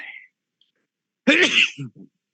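A single sneeze bursts out sharply near the mic, followed by a short tail of breathy vocal sound, after brief quiet.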